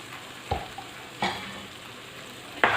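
Chicken frying with ginger garlic paste in a karahi, a steady low sizzle broken by three sharp stirring scrapes of a utensil against the pan, close and clear with no talk.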